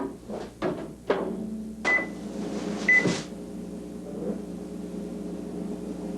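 A microwave oven hums steadily while a few short beeps and clunks sound nearby, followed by a quieter continuing drone.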